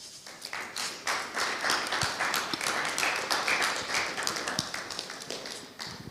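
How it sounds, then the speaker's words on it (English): A workshop audience claps steadily for several seconds, a dense crowd of hand claps with individual sharp claps standing out, heard from inside the room. "Let's give him a round of applause again."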